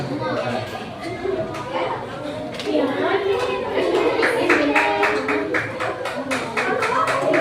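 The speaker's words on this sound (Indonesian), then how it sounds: "Beri tepuk tangan kelompok terakhir, kelompok 5" Classroom group applause for the final student group, scattered hand claps that grow denser and louder in the second half amid children's chatter and talking.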